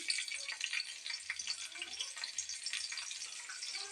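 Chopped small onions (shallots) sizzle steadily in hot oil in a kadai for a Chettinad-style mutton gravy, a dense, continuous frying hiss that stays close and fairly even throughout, with no voices.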